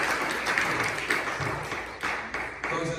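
A church congregation applauding during a sermon, moderate clapping with audible individual claps and uneven swells over a few seconds.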